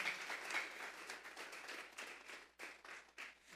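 A church congregation at a Sunday service claps together as an offering to God, with dense, steady applause that carries on throughout and dips briefly before picking up again.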